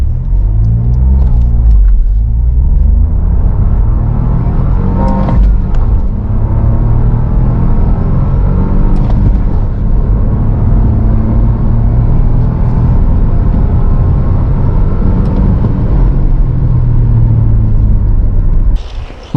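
A manual 2022 Dacia Jogger 1.0 TCe seven-seater accelerates hard from 0 to 100 km/h, its engine rumble loud and steady inside the cabin, pitch rising and dipping briefly at gear changes, with no talk.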